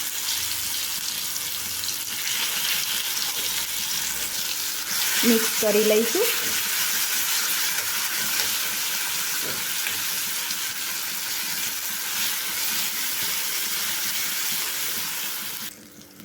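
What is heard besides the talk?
crushed garlic and chili sizzling in hot ghee tempering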